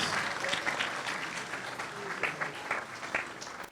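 Warm, sustained applause from an audience at a book launch ceremony in Mozambique, dense clapping throughout with crowd noise and voices mixed in.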